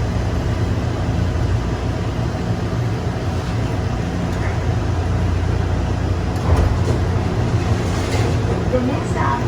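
Atlanta Hartsfield-Jackson airport Plane Train people mover rumbling steadily as it brakes to a stop, a continuous low mechanical drone with a slight bump near the end of the deceleration.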